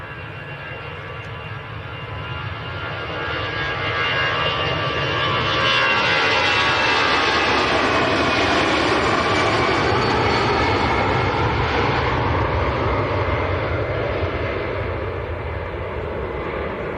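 An easyJet Airbus A320 jet departs Manchester Airport for Prague, its broad engine roar swelling over the first few seconds and then holding loud and steady, with no talk over it.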